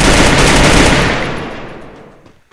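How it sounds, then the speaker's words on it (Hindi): Rapid automatic gunfire in the video game Free Fire, a loud burst of shots that fades out over a couple of seconds, with no talking. "ये देखो फायरिंग किया ना।"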